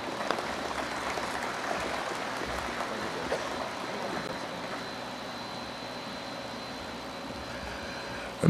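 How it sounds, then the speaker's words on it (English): Audience applause at a Central Bank of Belize banknote design reveal ceremony, a steady wash of clapping that holds evenly for several seconds at moderate distance. "Give Kareem another round of applause, please"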